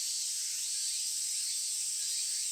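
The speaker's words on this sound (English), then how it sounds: "the keening of the cicadas eats at me" Cicadas keen through the shimmering summer heat in the Tsukihime visual novel, a dense, high, unbroken drone that stays steady and fairly loud throughout, with no speech.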